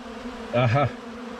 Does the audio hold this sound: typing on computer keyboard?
no